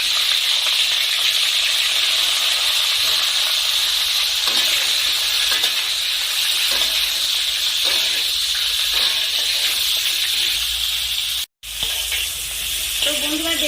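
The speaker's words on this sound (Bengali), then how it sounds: "এখন আমি ফুলকপি ভেজে নিচ্ছি।" Cauliflower florets fry in a pan for khichuri sides, a steady loud sizzle with frequent stirring scrapes, broken by one brief drop near the end.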